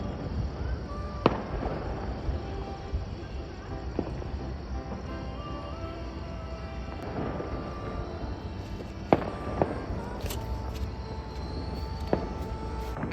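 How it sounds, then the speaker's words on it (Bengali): Celebration fireworks and firecrackers burst across a neighbourhood after India's Champions Trophy cricket final win, heard from a rooftop as scattered distant bangs and crackles over a constant hum of background noise. "চারিদিকে সেলিব্রেশনের বাজি ফাটছে এখন"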